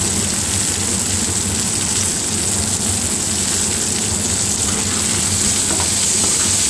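Whole cashews and raisins frying and being stirred in a pan for butter paneer, a steady close broadband sizzle with a constant high hiss and no voices.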